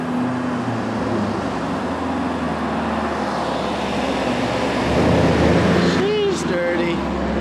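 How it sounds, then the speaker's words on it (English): A loud Porsche Panamera engine drones steadily amid traffic and roadway noise, swelling a little toward the end, with a voice talking over it. "That Porsche is so loud."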